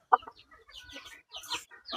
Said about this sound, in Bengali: এগুলো পাহাড়ি মুরগি